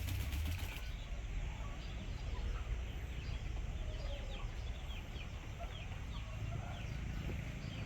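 Chickens cluck and call amid a busy, continuous farmyard din, with some wing flapping near the start.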